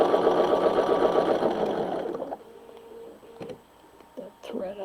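A quilting sewing machine runs steadily through quilt fabric, a loud close whirring hum for a couple of seconds before it slows and stops, leaving faint clicks and handling noises.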